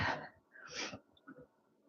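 A single sneeze up close, a sharp burst of breath followed by a quieter second puff and some soft breathing.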